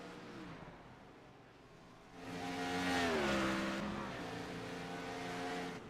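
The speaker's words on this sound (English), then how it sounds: "you can hear those cars just crashing against those rumble strips" Race cars in iRacing at Watkins Glen International, engines droning with shifting pitch as they pound over rumble strips; a rougher, louder roar swells midway and holds, with no talk.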